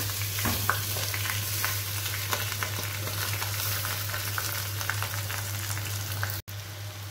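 Washed rice and yellow lentils go into hot oil with browned onions in a pan, making a loud, continuous sizzling crackle with a low steady hum beneath it, and the sound briefly cuts out near the end.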